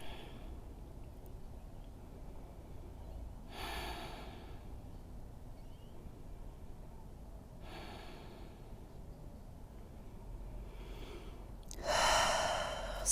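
Slow, deep breaths in child's pose during a beginner vinyasa yoga flow, three long airy exhales spaced several seconds apart in a quiet room, the last one louder and closer.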